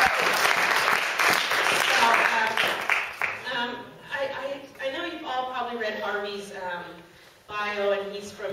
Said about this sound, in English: So yes, you should clap for her.